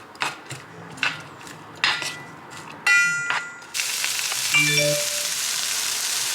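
Ingredients sautéing in olive oil in a pan for Alfredo pasta: a few sharp utensil taps and clinks, then a steady loud sizzle with a brief metallic ring.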